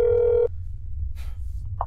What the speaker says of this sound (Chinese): 一层四号是有公寓电话的，我可以给公寓打电话